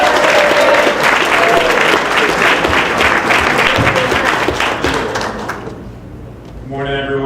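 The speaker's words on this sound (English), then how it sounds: "So give a round of applause for Max." A round of applause from the audience at a UAW Region 1 endorsement event in Warren, Michigan, welcoming a speaker from the AFL-CIO; loud, dense clapping fills the room, with a voice over it and the clapping fading near the end.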